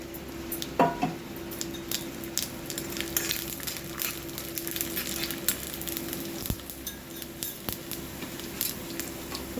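Chana dal, urad dal and mustard seeds dropped into hot oil in a pan, sizzling steadily with sharp scattered pops and crackles of the seeds, close and alone without talk.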